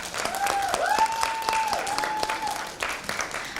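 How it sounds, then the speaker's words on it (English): Applause from the audience at a Black Heritage Month celebration in 2018, following a gospel selection by the group Praise and Motion; steady crowd clapping fills the clip, with a held sung or whistled tone over it. "Let's give another round of applause for Praise and Motion's selection of I Know I've Been Changed."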